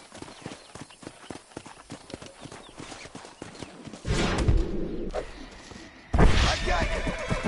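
Horse hooves clip-clop steadily in the Red Dead Redemption video game. A brisk run of hoofbeats is followed by louder bursts of horse snorting and whinnying. Nobody speaks.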